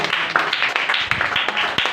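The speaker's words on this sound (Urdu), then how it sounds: "بچوں کے لیے ایک بار زوردار تالی" A group in a religious gathering gives children a loud round of applause, dense rapid clapping from many hands close by, lasting a couple of seconds.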